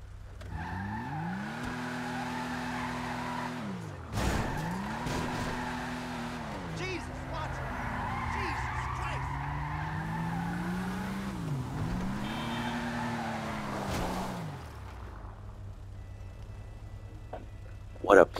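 The Vapid Nebula Turbo sports classic car drives in GTA V with a loud engine that revs up and down through gear changes. Tires squeal briefly before the motor settles and fades at the end.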